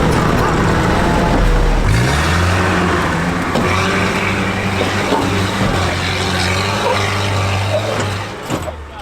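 An off-road vehicle engine crawls in low gear at an off-road jamboree in the Sand Hollow maze in Utah, a loud, close, steady droning growl that rises slightly in pitch and holds, with a little talk underneath.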